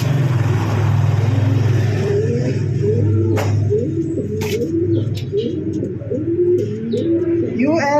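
Pigeon cooing from a light grizzle racing pigeon: repeated soft, low coos in a rhythmic series, close by, with faint chirps and a passing car in the background and a brief mumble of voices.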